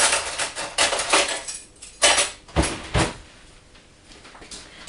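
Metal teaspoon clinking against a bowl while raw white chocolate is mixed, a run of sharp scattered taps and scrapes, close and fairly loud, with a quieter stretch near the end and no talk.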